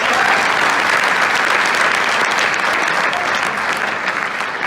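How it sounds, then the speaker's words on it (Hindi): A large audience at a sales seminar claps loudly and continuously in a thick wash of applause with no pauses. "एक बार ताली बजा सकते हैं अपने लिए?"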